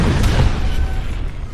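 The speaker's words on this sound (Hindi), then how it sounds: "तेहरान में मेहराबाद एयरपोर्ट के पास धमाके।" Explosions near Mehrabad Airport in Tehran make a loud, dense wall of booming rumble that holds for the whole moment without a pause.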